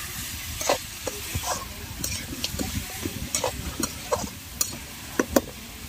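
Tomatoes roast in a hot pan at a village market stall in Kolebira's Banda Bazaar, giving a steady low sizzle with scattered sharp ticks and stirring scrapes, with busy market noise in the background.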